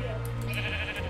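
A sheep bleats in Minecraft Bedrock, a short wavering call heard over steady background game noise, with a voice talking alongside.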